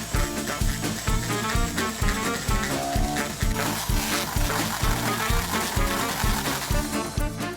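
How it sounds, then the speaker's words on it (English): Egg whites beaten with sugar to stiff peaks by an electric whisk, with a constant loud motor whir and a fast, regular rattling, close up and continuous throughout. "I have clean whisks, and now let's whisk it."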